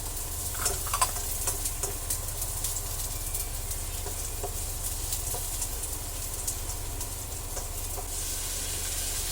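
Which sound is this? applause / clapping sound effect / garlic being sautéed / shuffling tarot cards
garlic being sautéed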